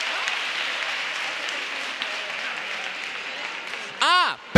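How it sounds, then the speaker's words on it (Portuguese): An audience at a Brazilian university-entrance literature lecture gives a steady round of applause, moderately loud and continuous for about four seconds, before a voice briefly cuts in at the end. "Por favor, uma salva de palmas e obrigado por estarem aqui."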